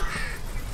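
Crows cawing in the video game Spirittea, a brief harsh call heard alone over a faint ambient background.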